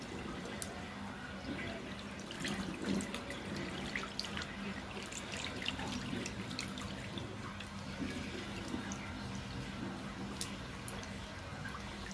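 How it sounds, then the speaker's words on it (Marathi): Water runs and drips steadily at a sink while a baby's dropper is rinsed, with small splashes and clinks throughout, fairly quiet and close. "अशा प्रकारे मी तिचा ड्रॉपर धुवून घेते"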